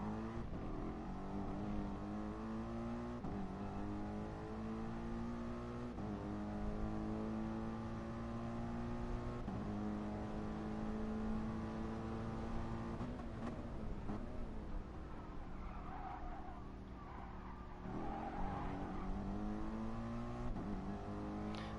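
A race car in Gran Turismo Sport drops through the gears while braking into a turn, steady engine tones stepping down in pitch repeatedly, loud and continuous with no talk.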